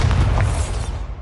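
A Bombarda spell in Hogwarts Legacy detonates with a single loud, deep boom that rumbles and fades quickly.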